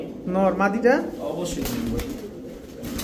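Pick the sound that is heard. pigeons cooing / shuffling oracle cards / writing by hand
pigeons cooing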